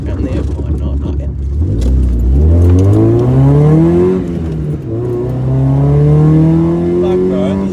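A Nissan S13 Silvia's SR20DE engine revs up twice with a raspy exhaust note, rising in pitch, dipping, then climbing again, loud and close.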